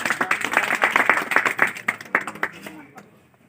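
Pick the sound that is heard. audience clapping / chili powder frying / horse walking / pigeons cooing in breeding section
audience clapping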